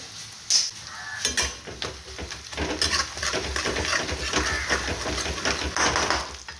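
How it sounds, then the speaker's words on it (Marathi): Ground coconut and garlic paste sautéing and being stirred in a pan for a green pea curry, with a steady close sizzle, scraping stirs and occasional clinks of utensils throughout. "यामध्ये खोबरं आणि लसूण वाटलेलं आहे आता ह्यामध्ये छान मिक्स होण्यासाठी छान परतून घेत आहे"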